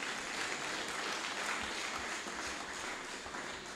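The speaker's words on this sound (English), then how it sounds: "Give him a round of applause." Steady crowd applause at a Jamaica Combined Cadet Force special service honouring officers, a dense continuous clatter of many hands at moderate distance, with no speech over it.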